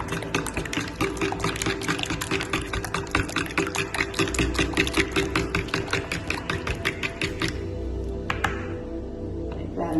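Banana pancake batter whisked by hand in a bowl, a fast steady run of light clicking strokes lasting throughout, close and fairly loud, with no talk.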